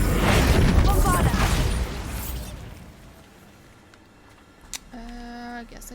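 A Bombarda blasting spell in the Hogwarts Legacy video game goes off as a loud, booming explosion up front, then rumbles away to quiet, followed by a faint chime-like effect near the end.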